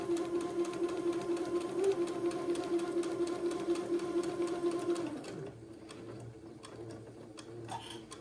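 A sewing machine runs steadily for about five seconds, stitching a seam on an Eton suit with a fast even buzz, then stops, leaving faint handling clicks.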